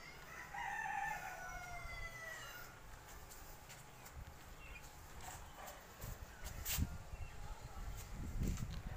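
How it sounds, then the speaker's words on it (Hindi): A rooster kept for fighting crows on a rooftop, one drawn-out call early on that sounds fairly distant and faint, followed by quieter clucking and rustling. "इन्होंने एक मुर्गा भी रखा हुआ है लड़ाइयों करने के लिए"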